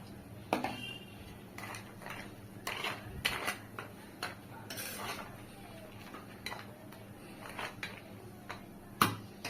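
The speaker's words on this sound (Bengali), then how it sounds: "ঝোলটা ফুটতে শুরু করেছে এবার আমি দিয়ে দিচ্ছি এর মধ্যে বড়ি আর উচ্ছেটা" Quiet clinks and taps of utensils against a pan over a soft bubbling gravy, with scattered knocks as lentil dumplings and bitter gourd are dropped in.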